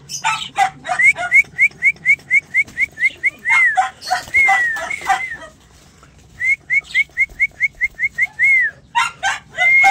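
Pigeons in a keeper's loft calling close by, rapid runs of evenly spaced bright notes in two long bursts with a short pause between, loud and clear.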